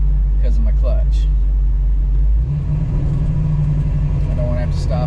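A manual-transmission car climbing a hill during a cruise, its engine rumbling loud and low from inside the cabin, with a shift in tone partway through as the throttle eases, while someone talks over it.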